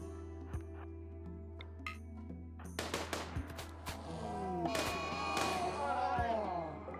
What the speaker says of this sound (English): Heavy SMGs do so much damage.